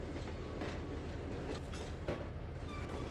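A train throws into gear and rolls in Trainz 2022, a steady rumbling clickety-clack of wheels on rails with a low mechanical drone throughout, no speech.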